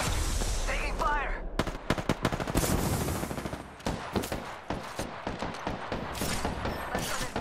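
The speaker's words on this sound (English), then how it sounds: "I'm taking shots. Taking fire." Rapid bursts of automatic gunfire in a shooter video game, loud and dense, with sharp repeated shots and brief pauses between volleys.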